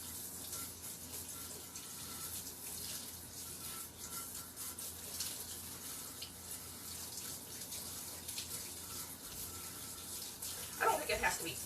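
Tap water runs quietly into a kitchen sink while a mixer beater is rinsed, a soft steady wash that ends in a brief splashing clatter.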